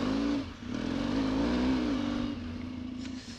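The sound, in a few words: off-road motorcycle engine riding through mud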